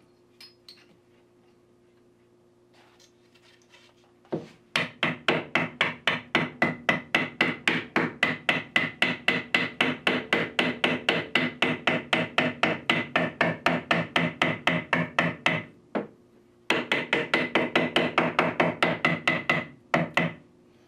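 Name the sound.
hammering T-molding into arcade cabinet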